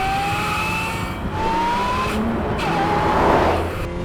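A Lotus Emira powered by an AMG turbocharged four-cylinder engine grumbles continuously, its note climbing repeatedly through gear changes, loud and up close, with no talking.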